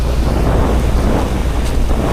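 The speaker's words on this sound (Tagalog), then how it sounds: "Medyo maalon dito ngayon no?" Rough Pacific sea heard from a small boat, with steady wind buffeting the microphone over the constant wash and slap of choppy waves, loud and close throughout.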